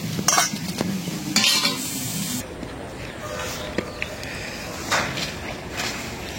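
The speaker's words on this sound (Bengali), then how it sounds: "হয়ে গেল লাউ শাক ভাজা।" Bottle gourd greens are stir-fried in a pan, a close steady sizzle broken by brisk scraping strokes of a spatula and occasional clinks, heard without talk.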